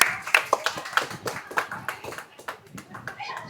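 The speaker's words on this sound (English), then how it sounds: "A huge round of applause for Reiko Matsuyama." Scattered audience clapping at a business association meeting in Lihue, uneven individual claps rather than a dense wash, close and moderate, with faint voices mixed in.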